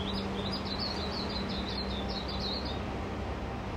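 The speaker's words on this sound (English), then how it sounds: "just listen to the sound of birds." Small birds chirp in quick repeated high-pitched bursts over a steady wash of background noise, somewhat distant, with a faint low hum.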